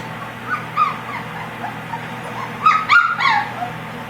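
Several puppies about four weeks old whimper and yip in short, high-pitched bursts, scattered at first and then clustered together near the end.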